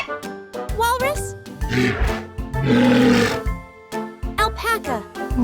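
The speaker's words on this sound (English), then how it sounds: "Walrus." A walrus calling: a series of loud, close, bellowing grunts and roars of varying pitch, with a long sustained roar in the middle and shorter grunts around it.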